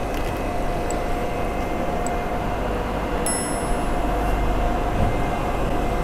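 A steady low rumble of a Dart passenger train rolling into a station at Białystok, Poland, with faint squeals and clicks of wheels on rails and a constant hum throughout.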